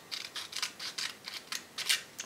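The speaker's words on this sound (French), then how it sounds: "C'est juste se couper un petit bout" Scissors snip a small strip while a remote control is being repaired, giving a quick run of about nine crisp, close cuts in an uneven rhythm with no talking.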